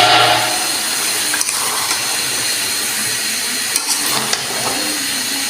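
Vegetables dropped into a pan of fried spice paste for a rohu fish curry with green tomato and flat beans, giving a steady close sizzle and hiss with a few small clatters, no voices.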